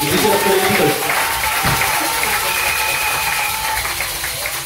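A church congregation at an Easter service applauding, a dense, steady wash of clapping that fades slightly toward the end, with a voice speaking over it.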